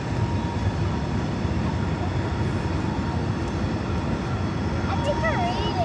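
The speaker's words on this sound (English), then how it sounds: "It sounds like the train is passing by right by me" A train rumbles past close by near Miami International Airport, a steady loud roar that fills the whole stretch, with faint chirping calls near the end.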